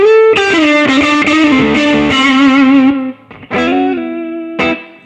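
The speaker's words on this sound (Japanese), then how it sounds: "要は前段のエフェクトのレベルを下げることで歪みが下がります。" Electric guitar played through a BOSS JB-2 Angry Driver distortion pedal, sustained overdriven chords ringing out, then a pause and a few shorter distorted strums, loud and alone.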